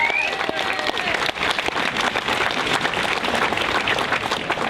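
A rally crowd in the city cheers and applauds in a dense, steady roar of clapping and voices, loud and sustained throughout with no pause.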